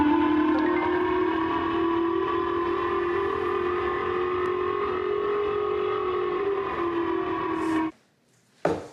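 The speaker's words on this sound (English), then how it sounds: "Loud sirens went off across Tokyo." Civil defense sirens wail across Tokyo in a steady, loud, sustained tone with layered harmonics lasting about eight seconds before cutting off abruptly, followed by a brief gap and a short burst of noise.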